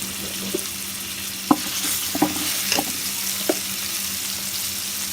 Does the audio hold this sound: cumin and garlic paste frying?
yes